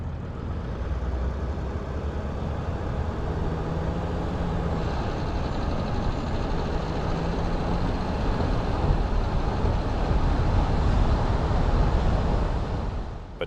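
Big trucks rolling past near a large truck stop with fueling lanes: a continuous low engine rumble and road roar from nearby traffic, building slightly toward the end, with no talk.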